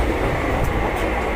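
Inside a moving passenger train, a steady low rumble and hum fills the carriage, close and even for a brief moment.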